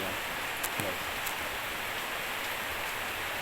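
Rain falls steadily on Siargao Island, a faint, even hiss of drops with a few tiny taps and no voices standing out.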